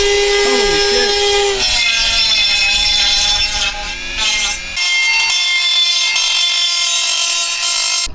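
A cheap Dremel-style rotary tool sanding a plastic wheel part, a loud continuous high whine with grinding rasp that shifts pitch as it bears down, with brief speech near the start.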